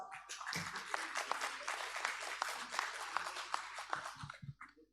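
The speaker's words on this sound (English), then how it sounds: "Please give a big round of applause." Steady, dense applause from a symposium audience, sustained for several seconds before tapering off near the end.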